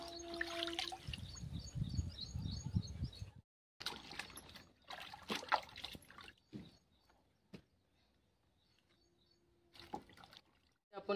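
A bunch of bananas is rinsed under clean water, with splashing and trickling in irregular bursts broken by short pauses and a few sharp clatters, fairly faint and close.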